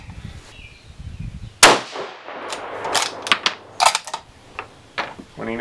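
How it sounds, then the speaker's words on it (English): A single sharp crack from a rifle firing a 6.5 round at room temperature, loud and close, followed by a decaying ring and a series of metallic clicks and clanks afterward. "So first shot here."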